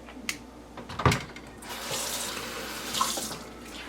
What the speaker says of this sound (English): I wash them in some warm soapy water and rinse them up